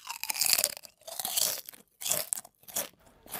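Crunchy chewing of ramen noodles in a restaurant, several close, loud bursts of crisp biting and mastication separated by brief pauses.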